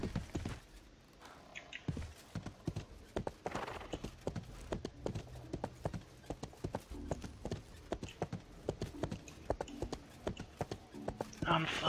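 A horse's hooves clop in a quick, steady rhythm in the RIFT video game, with crisp evenly spaced hits running throughout as a player rides; someone speaks over the sound.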